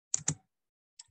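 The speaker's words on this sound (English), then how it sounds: "So I'm just going to go back on search and type in abstract" Keys clatter on a computer keyboard: two quick, close taps in a row, then a brief pause and a single lighter tap.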